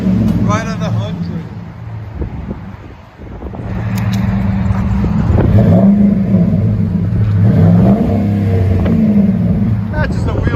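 A 2010 Ford F-150 with a 5.4L Triton V8 and Flowmaster Super 44 dual exhaust idles with a deep rumble, then revs up and down in a few swells, loud and close, with people talking nearby.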